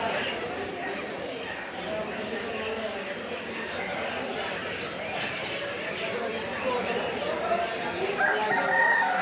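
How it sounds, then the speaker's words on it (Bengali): At a chicken market in Kolkata selling hybrid chickens, clucking and a rooster's crow sound through a busy crowd, with nearby people talking the whole time. "এগুলো সব হাইব্রিড মুরগি আছে।"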